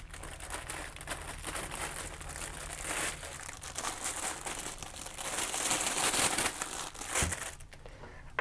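Chunk torn from a bread loaf in a classroom kitchen, with continuous crinkling of the plastic bread bag close to the microphone and a dense, scratchy rustle throughout.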